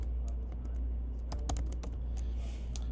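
Rapid computer keyboard typing while writing a blog paragraph, close and steady, with irregular clusters of key clicks and a few sharper strokes over a low background hum; no one speaks.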